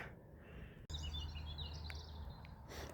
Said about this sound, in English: this quiet with no sound but just the birds chirping